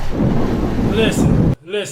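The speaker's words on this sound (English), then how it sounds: "a freak lightning storm breaks overnight" A deep, continuous rumble of thunder with rushing storm noise from a lightning storm at sea, loud and close, cutting off abruptly near the end as a voice begins.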